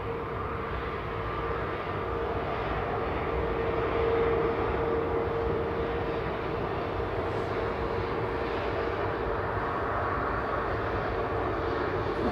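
Steady, continuous drone of an airplane engine on the runway at Manchester Airport, heard from a distance with a constant level and a faint tonal hum throughout.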